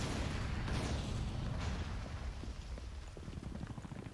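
Artillery strike in the Modern Combat 4: Zero Hour video game: a dense, sustained rumble of blasts and booms that stays loud throughout, with sharper impacts scattered across the later part.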